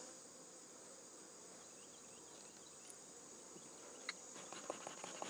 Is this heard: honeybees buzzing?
yes